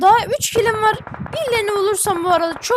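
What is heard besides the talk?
No everyday noises stand out.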